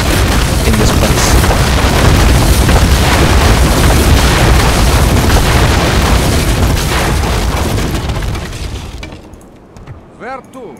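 Buildings crumble amid a sustained roar of explosions and collapsing rubble during a Medieval 2 Total War siege, loud and dense for several seconds before fading into scattered crashes, with a voice talking over it.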